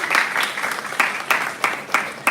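Audience applause for the event organizer at a school rhetoric gathering, a steady wash of clapping with a few sharper accents at regular intervals, moderately loud.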